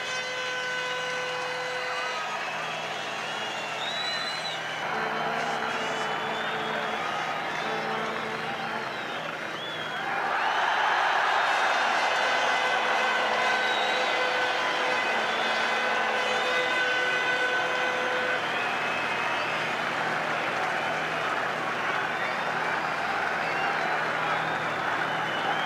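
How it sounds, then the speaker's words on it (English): A vast rugby crowd at Eden Park chants for the All Blacks during the 1987 Rugby World Cup, a dense, sustained roar of many voices that swells louder midway and holds steady. "The crowd chanting for the Blacks"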